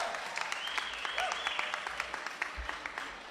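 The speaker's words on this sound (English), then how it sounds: "How about a big round of applause for all our seniors?" A crowd at the Illinois State Fair Senior Day applauds, with a steady patter of scattered clapping that is fairly faint and distant and continues evenly throughout.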